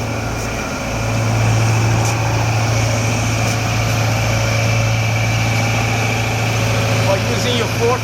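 Engine of an Amtex Inferno 500 truck-mounted carpet cleaner running steadily at raised RPM, a continuous loud hum with a low tonal drone that holds evenly throughout, no voices over it.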